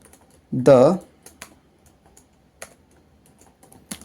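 Scattered keystrokes on a computer keyboard while typing C code, with sparse, separated clicks close by after a brief burst of voice near the start.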